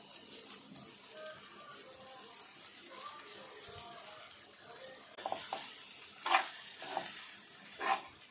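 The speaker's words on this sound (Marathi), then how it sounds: "आता इथे आपण पोहे टाकूया हे बघा किती मोकळे झालेत जरा असे हलवून घ्यायचे" Poha is stirred among onions in a hot pan, giving a soft sizzle under quiet talk, then several louder scraping and rustling strokes of the spoon.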